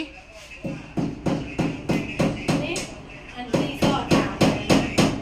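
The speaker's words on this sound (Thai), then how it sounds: "วิธีการตีตะปูตอกตะปูที่ถูกต้อง ต้องเป็นจังหวะแบบนี้นะคะ" Steady hammering of nails, about a dozen sharp, evenly spaced blows in a regular rhythm, close by and loud, with a short pause partway through before the strikes resume.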